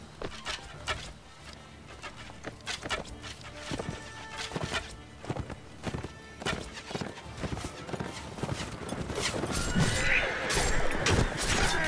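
In the video game Mount and Blade Warband, horses gallop in rapid, repeated clip-clop hoofbeats, with occasional neighing and crashes that grow louder toward the end, under some talking.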